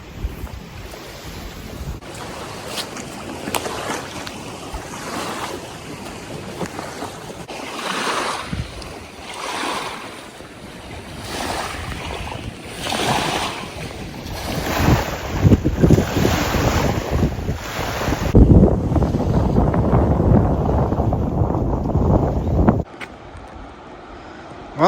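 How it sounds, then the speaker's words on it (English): Scale Force waterfall in the Lake District roars as a steady, broad rushing wash of falling water mixed with wind buffeting the microphone, loud and continuous with no voices. "you can really see the scale and the force of that waterfall"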